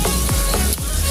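Oil sizzling loudly in a pan of Bicol express with string beans, a close, constant hiss with a few soft stirring scrapes, no voices.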